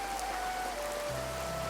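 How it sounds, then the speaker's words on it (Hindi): Heavy evening rain makes a steady, soft hiss with no clear individual drops, with a low hum running underneath. "शाम के समय तेज बारिश हो रही थी।"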